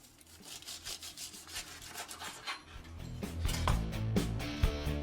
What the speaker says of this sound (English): I'm going to go ahead and cut them in two while they're still in the aluminum foil here.